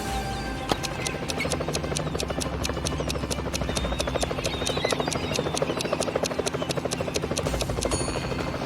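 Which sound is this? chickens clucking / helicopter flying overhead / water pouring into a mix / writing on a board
helicopter flying overhead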